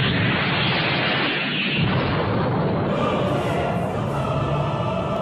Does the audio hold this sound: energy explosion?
yes